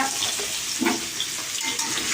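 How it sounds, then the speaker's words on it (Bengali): Potatoes fry in a pan with a loud, continuous close-up sizzle and crackle, with small bursts of stirring noise and no voices. "আলুটা ভাজা হোক"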